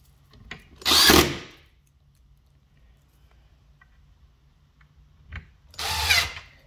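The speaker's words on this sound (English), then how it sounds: "I grabbed the round-tipped screws, and we're just gonna put these in real quick." A power drill drives round-tipped screws into a panel during furniture assembly with cleats, two loud bursts of whirring a few seconds apart with quiet between them.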